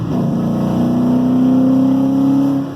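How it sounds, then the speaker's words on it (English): A V8 engine idles and revs up loud and close, giving a steady throbbing rumble with a rising tone that holds, then eases off, with no talking. "Yeah, I know you hear them 8 cylinders popping."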